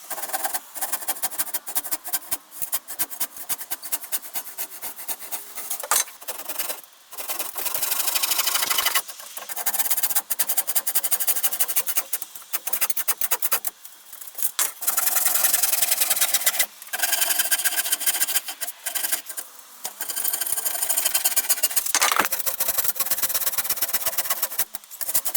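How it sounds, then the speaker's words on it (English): A saw cuts through timber roof battens above roofing felt while a VELUX roof window is being fitted. The rapid, harsh rasping runs in long close bursts, broken by several short pauses. "that's all the battens sawn off, and we've got no tears in that felt whatsoever"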